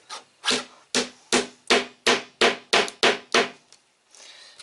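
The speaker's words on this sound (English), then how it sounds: "so it's easier for me to hammer it in" A hammer taps wooden canvas keys into the corners of a painting's stretcher frame, about ten sharp, evenly spaced knocks up close, then a faint rustle.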